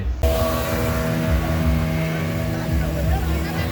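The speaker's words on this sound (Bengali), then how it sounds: "যেগুলোতে একটু পরপরই স্পিড বোট চলছে" A speedboat motors across a lake at a water park, its engine a steady droning hum close by, with a voice talking over it throughout.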